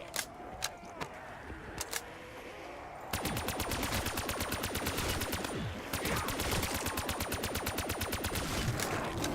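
Rapid automatic gunfire in Black Ops 3 Zombies: a few single shots, then long sustained bursts of fast, evenly spaced rounds, loud and continuous with a brief pause in the middle.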